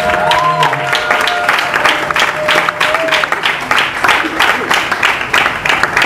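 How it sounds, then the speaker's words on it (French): A church congregation at a Sunday service claps and cheers in a long, sustained burst of applause that fills the room, with voices calling out amid the clapping. "Est-ce qu'on peut encore donner une grande acclamation?"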